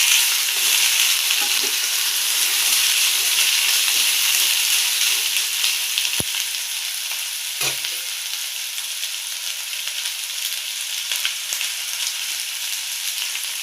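Washed potatoes fry in a pan with a loud, even, continuous sizzle and hiss close by, broken by a couple of faint knocks from stirring and no talking.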